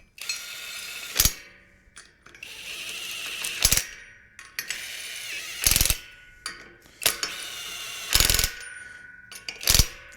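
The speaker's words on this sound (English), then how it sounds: "I've just got my little 3/8 impact, and I've done it on number 1 mode." Small 3/8 impact driver on its lowest mode fastening a wheel onto a homemade ATV trailer: several short, loud hammering bursts separated by quieter handling and clanking, close up, no talking.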